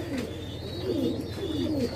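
Fancy pigeons, including a Bombay pair, coo softly and repeatedly at a pigeon farm in Bangladesh, their low rolling calls close by over a faint steady background.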